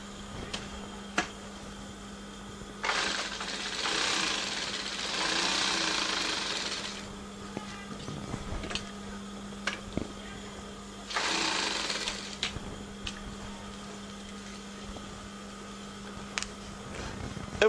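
A sewing machine topstitches a shirt cuff in two close bursts of fast mechanical rattling, with short clicks and a faint steady hum in the quiet gaps between.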